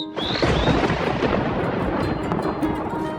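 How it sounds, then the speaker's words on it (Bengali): A loud, continuous roar of heavy rain fills the air, with a deep rumble of thunder underneath throughout. "হঠাৎ একদিন খুব জোরে বৃষ্টি নামল"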